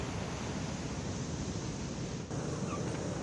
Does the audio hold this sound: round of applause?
no